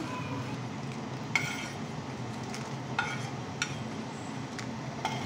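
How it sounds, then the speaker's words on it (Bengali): Dry red chilies roast in an oil-free pan, giving a steady low rustling sizzle with a few sharp clinks and scrapes from stirring spaced through the run. "শুকনো মরিচগুলো আমরা ভেজে নেব, শুকনো খোলায় ভেজে নেব, তেল ছাড়া"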